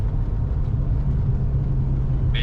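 A slammed Foxbody on SVE coilovers pulls away under acceleration, heard from inside as a loud, steady low engine and road rumble that holds evenly throughout with no voices.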